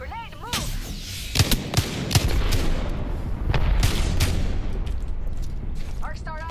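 Video game combat with rapid gunfire bursts and heavy explosive booms, loud and dense throughout, with voices shouting near the start and end.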